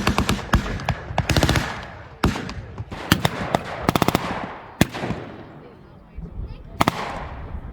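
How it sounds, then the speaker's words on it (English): Bursts of machine gun fire crackle across a World War II battle reenactment in Nyvang, Denmark, loud rapid rattling volleys mixed with single sharp shots and distant booms, stopping and starting over several seconds. "The Germans fire a shell towards the jeep and open up with machine guns."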